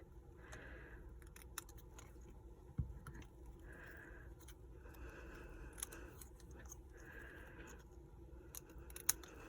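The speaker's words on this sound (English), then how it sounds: "then you take your scissors," Quiet, intermittent snipping of scissors trimming paper for a handmade card in a calm room, a few distinct cuts separated by pauses, with faint handling noise between them.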